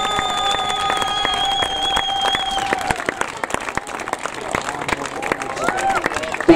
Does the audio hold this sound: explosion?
no